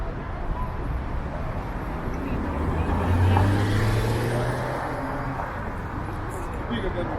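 Dense road traffic roars steadily along a major expressway running through a crowded city district, a loud, continuous wash of vehicles with one heavier vehicle swelling past midway, while a voice talks underneath.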